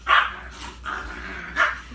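Dogs playing with a new dog toy, giving three short barks spaced across the moment, one near and sharp, with a lighter yip in between.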